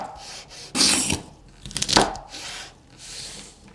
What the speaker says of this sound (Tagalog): Hatiin natin ng isang dangkal siguro para maganda ang pagkakabilog nito.